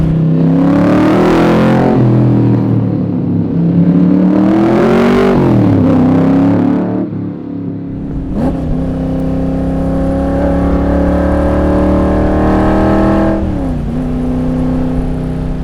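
A powerful Roush 427 V8 in a Superformance Cobra R revs up steadily and loudly in third gear, its pitch climbing in long sweeps, heard close and without talk.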